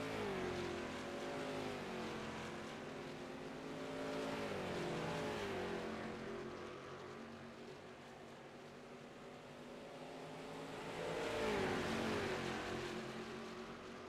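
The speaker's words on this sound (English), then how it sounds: "as we watch the cars racing through here" Race cars roar past on a track near turn four, engine notes rising and falling as each machine sweeps by, heard from a distance with steady rumbling between passes.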